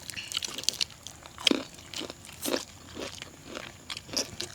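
Crunchy fried chicken is bitten and chewed at close range in a rural outdoor setting, with a string of crisp irregular crunches and bites repeating throughout, fairly quiet and without talk.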